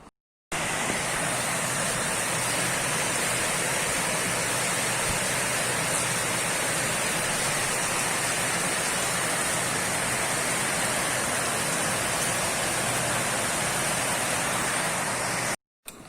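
Heavy rain pours outside a hotel while water rushes down the street like a river, a dense, constant hiss that holds unbroken for about fifteen seconds between brief silences.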